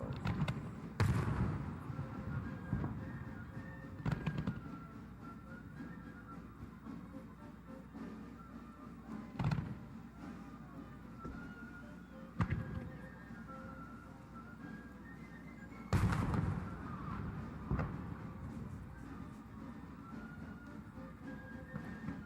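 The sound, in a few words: fireworks show exploding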